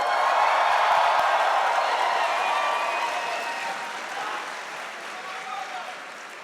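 Graduates at SAIT's Spring 2025 convocation ceremony cheer and applaud together, a loud, dense wash of clapping and shouting voices that slowly fades over several seconds.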